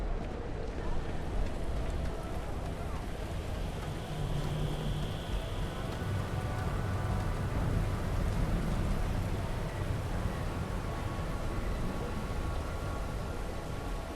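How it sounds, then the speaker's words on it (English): Heavy rain pours in the video game Starfield, a dense, even hiss of downpour that holds steady throughout, with faint low rumbles beneath it. "Rain and it's pouring"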